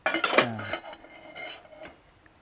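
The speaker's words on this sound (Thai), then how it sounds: "ซ้อนซ้อนซ้อนกันนี่หม้อใบที่สองนะครับ" Fire Maple nesting camping cookware pots are handled and stacked together, giving a close burst of metallic clanks and ringing knocks up front that fades into lighter scraping and a faint clink near the end.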